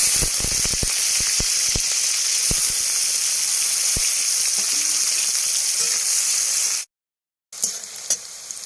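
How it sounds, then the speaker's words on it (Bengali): Onions frying in mustard oil for canteen-style ghugni, a steady close sizzle with scattered sharp crackles and pops, broken by a brief silence near the end. "সর্ষে তেল দিয়ে দিচ্ছি পেঁয়াজ দিয়ে দিলাম"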